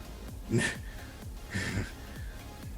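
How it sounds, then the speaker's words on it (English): A person breathes heavily near the microphone, with two loud, rasping, wheezy breaths spaced about a second apart over a low rhythmic background hum. "Why are you breathing heavily?"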